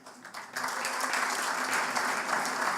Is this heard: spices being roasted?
no